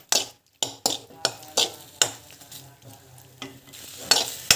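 Food is stirred in a hot frying pan for a dhaba-style snack, with a series of sharp utensil scrapes and clanks repeating every half second or so over a quieter background sizzle.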